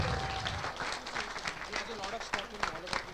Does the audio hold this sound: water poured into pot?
no